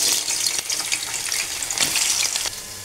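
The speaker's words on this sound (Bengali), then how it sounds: "আলুগুলো ভাজা হয়ে গেছে" Turmeric-coated potato pieces fry in a generous amount of hot oil, giving a loud, steady crackling sizzle that runs throughout with small bursts of spatter.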